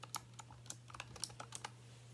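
Typing on a Razer Huntsman Mini gaming keyboard, a quick run of crisp, uneven keystroke clicks close to the microphone over a steady low hum, with no voices.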